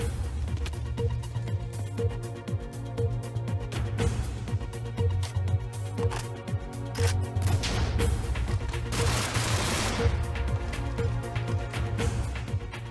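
A bomb dropped by a bomber explodes in a Minecraft World War III server battle, a broad crashing burst rising out of dense, constant game noise and gunfire-like clutter.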